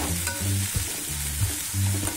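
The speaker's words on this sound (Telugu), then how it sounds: "ఉల్లిపాయలు దోరగా వేగిన తర్వాత వేగుతున్నాయి దోరగా" Onion pieces frying in a pan until golden for a taro root pulusu, with a soft sizzle under repeated rhythmic scraping strokes of a spoon stirring against the pan.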